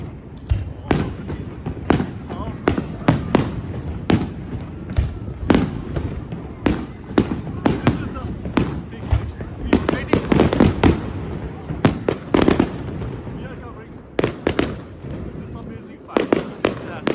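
Fireworks at the Lysfest Christmas season opening at Festplassen in Bergen bang and crackle in rapid, irregular bursts, some loud and close, with a crowd murmuring underneath throughout.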